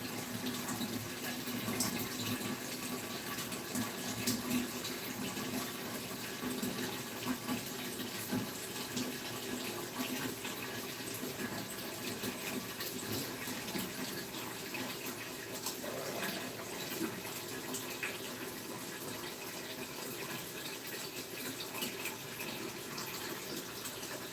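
Water runs steadily from a tap, filling a container in a continuous, faint, even stream with no talking.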